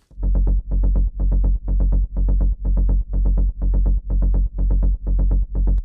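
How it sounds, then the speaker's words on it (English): A rolling synth bass of square waves pulses in steady, even bursts, a repeating looped pattern with short gaps between phrases, loud and alone. "It's a rolling bass sound which consists out of 2 square waves."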